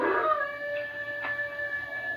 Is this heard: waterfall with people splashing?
no